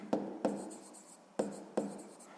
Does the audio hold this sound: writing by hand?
yes